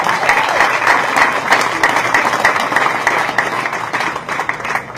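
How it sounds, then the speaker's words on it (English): Large crowd applauding at a graduation ceremony for over 700 graduates of MILAT, loud sustained clapping that stays even throughout with slight fading toward the close. "Let us also recognize them by giving them a wonderful applause."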